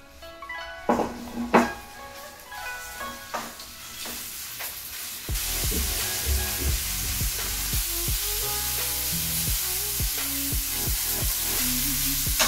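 A steak searing on high heat in a pan with olive oil, a steady loud sizzle that swells after the meat goes in, with scattered clinks and scrapes over the hiss and no talk.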